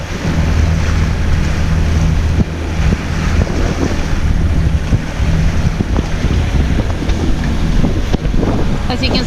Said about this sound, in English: it's raining, and it's from time to time the wind is picking up